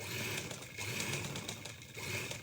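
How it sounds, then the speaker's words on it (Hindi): A sewing machine stitching a placket strip onto a shirt, running in a steady fast whirring rattle with two brief pauses, close and continuous with no voices. "अब इसको स्टिच कर लेंगे"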